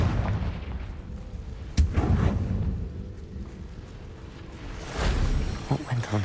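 A Confringo spell in the Hogwarts Legacy video game lands with a sharp blast, followed by rumbling booms and a second burst of explosive impacts near the end, loud and close.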